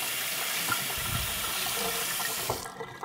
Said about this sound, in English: So make sure you run it under the cold water